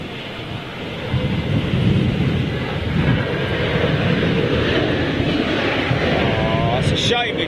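An Air India A320 airliner landing at London Heathrow in stormy weather, a loud continuous jet roar blended with wind buffeting the microphone and a voice speaking briefly over it.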